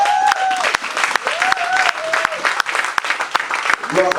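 A church congregation applauds in acclamation after a scripture reading, with steady clapping and cheering voices filling the hall throughout and a few sustained tones rising above the crowd.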